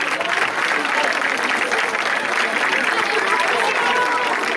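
Audience applause at a Sant Jordi school celebration, a dense, steady patter of many hands clapping for the whole stretch, loud and even with no pauses.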